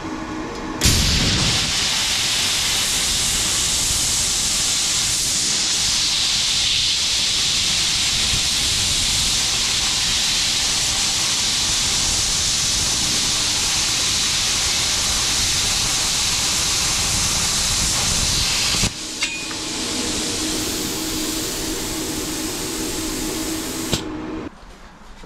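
A YesWelder CUT-65DS PRO plasma cutter slices through 3/4 inch thick steel, a loud, steady roaring hiss that runs unbroken for about eighteen seconds, drops briefly, then continues at a slightly lower level before cutting off abruptly.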